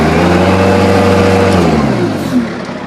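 Bobcat 773 skid steer loader engine, throttled by its speed handle, roars loud and near, holding high revs and then winding down as the speed drops toward the end.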